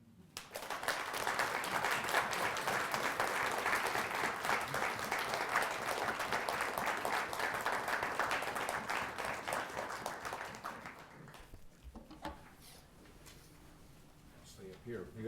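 An audience applauds after a lecture on mercy in biblical law, dense sustained clapping that holds steady for about eleven seconds, then tapers off to scattered faint claps and room noise.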